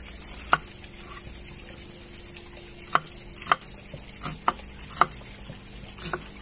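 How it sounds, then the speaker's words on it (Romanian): A knife chops onion on a board in a few scattered, sharp knocks against a quiet kitchen background. "tăiem ceapa"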